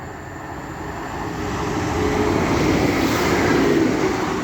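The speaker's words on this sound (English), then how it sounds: "The next train to be coming through will be another Class 195 running from Leeds to Chester." A Class 195 passenger train passes Castleton station, a steady rumbling roar that swells over a few seconds and holds loud and near, with a faint high whine on top.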